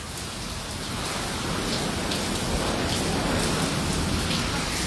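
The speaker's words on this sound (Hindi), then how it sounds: "तूफान की वजह से ये जो बारिश की जो बौछार हैं वो गैलरी तक आने लग रही है, अंदर तक" Torrential storm rain in Kaithal lashes down and sprays into an open gallery as a dense, loud, unbroken roar that swells slightly over five seconds, with a faint rumble underneath.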